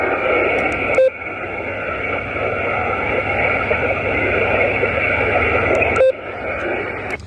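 Low-power QRP ham radio signal at about 1 milliwatt, received portable at sunset: a steady hiss of band noise with a faint tone buried underneath, broken by two short clicks or dropouts.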